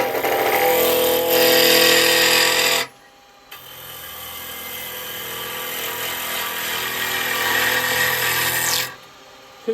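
A wood lathe spins up while a 5/8 spindle gouge cuts a bowl blank, giving a steady loud whirring and scraping drone that breaks off briefly and then runs on until it stops near the end.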